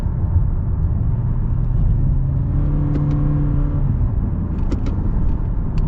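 Four-cylinder engine of a 2022 Toyota Camry XLE accelerating, a low steady rumble heard from the cabin with a faint rising whine and a few soft clicks, smooth and continuous with no talking.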